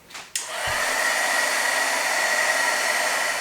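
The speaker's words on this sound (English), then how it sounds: "And then I'm going to heat my background and make sure it is nice and dry." Heat tool blowing a steady, loud whoosh with a faint high whine as it dries a card-making background; a short clunk starts it, then an unbroken airflow roar runs to the end.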